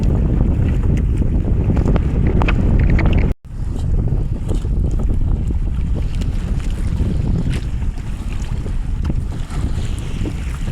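Strong wind roars and buffets the microphone continuously in the rain, with water sloshing against a small boat beneath it; no voices.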